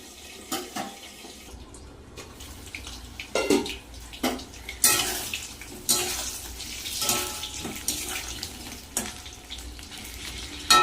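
Pointed gourd sizzles and crackles in a pan, a steady frying hiss with sharp pops and clatters of stirring, close and fairly loud.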